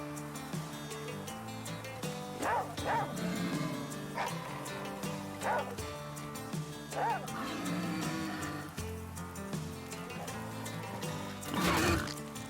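In the video game The Flame in the Flood, a dog gives repeated barks and whimpers at intervals over a steady musical score, growing louder near the end.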